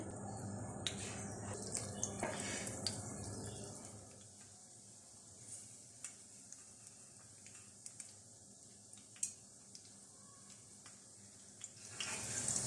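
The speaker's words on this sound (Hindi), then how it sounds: "अब इसमें कबाब फ्राई कर लेते हैं।" Chicken shami kebabs made with egg shallow-fry in oil over low heat, giving a soft, steady sizzling hiss with occasional small pops, fairly quiet throughout.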